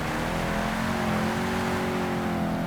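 A loud American muscle car engine roars steadily in Project Gotham Racing 2, sustaining a rich, continuous growl with shifting pitch as it races, no voices present.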